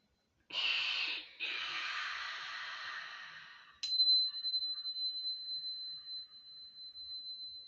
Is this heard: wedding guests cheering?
no